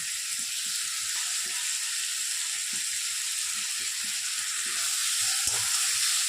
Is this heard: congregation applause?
no